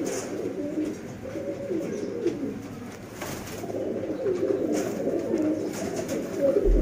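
Many pigeons coo continuously at a pigeon market in Sialkot, Pakistan, a dense, overlapping crowd of low throaty calls close by with no talk.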